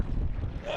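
Strong gusting wind buffets the microphone out at sea, a dense broadband rush with no speech over it.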